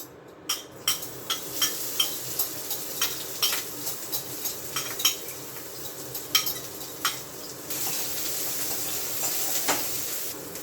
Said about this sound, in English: I'm going to saute my onion, my ginger, and my garlic.